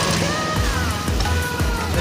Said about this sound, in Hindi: ये देखो हमने गाड़ी स्टार्ट कर दी,